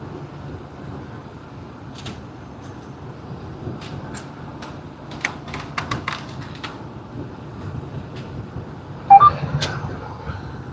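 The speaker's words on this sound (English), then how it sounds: "That beeping you're hearing is my distance warning beep going off." Short electronic warning beeps from an American semi truck's distance warning system sound briefly near the end, over a steady low cab rumble and road noise, with a few faint clicks scattered through.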